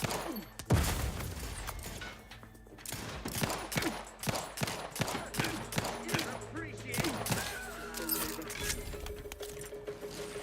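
Enemy grenade blasts in the game Outer Worlds 2 go off as a series of sharp, booming hits, one strong burst early and then several more in quick succession, mixed with game noise and some talk.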